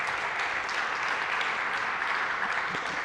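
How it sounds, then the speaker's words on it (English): A conference audience at a business event claps steadily, a dense, even wash of applause from a crowd heard at moderate distance throughout. "let's give Joe a round of applause in the solutions desk"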